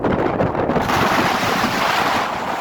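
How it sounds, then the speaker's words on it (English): Strong wind buffets the microphone on a gusty outdoor walk near Ardvreck, a loud, continuous rumbling roar that never lets up, with no voices. "It's so windy here, guys, I might have to turn around"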